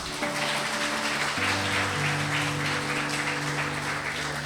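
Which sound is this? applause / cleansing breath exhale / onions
applause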